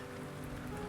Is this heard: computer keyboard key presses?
no